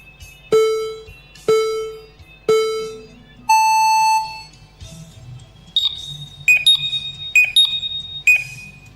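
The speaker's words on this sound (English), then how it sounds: "Listen to the buzzer." An FPV drone race start buzzer gives three short countdown beeps, then a longer higher tone, followed by a series of quick electronic chirps and blips over a quiet background.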